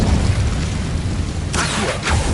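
A fire spell goes off in a Harry Potter video game set in a decayed catacomb, a rumbling whoosh of flame followed by a sharp burst and crackling flare, loud and close.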